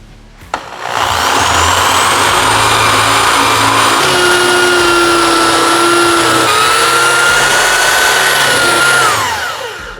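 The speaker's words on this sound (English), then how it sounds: "plug the drill in here and go ahead and drill a hole" A loud electric drill, plugged into a solar-powered shed's inverter, whirs steadily for several seconds, its motor pitch shifting mid-run before winding down.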